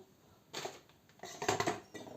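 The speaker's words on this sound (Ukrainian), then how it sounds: "Ложкою легенько розмішуємо так." A spoon clinks and scrapes against a bowl in a few quick strokes, stirring pancake batter with cherries after baking soda is added, close and fairly quiet, with no voices.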